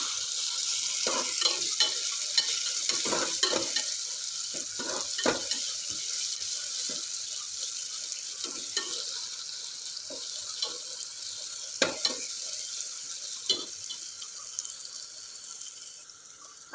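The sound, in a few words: frying and stirring chopped coriander in tempering for khichdi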